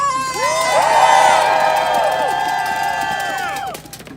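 Protest crowd outside the Minnesota governor's residence bursting into loud cheers and whoops, swelling quickly then fading after about three and a half seconds.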